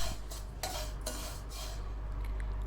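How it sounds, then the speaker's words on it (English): Vermicelli roasting in ghee in a metal pan is stirred with a utensil, giving repeated scraping, clinking strokes at a steady pace over a low, constant background rumble. "Now we add the vermicelli into the pan and roast it in ghee for a while."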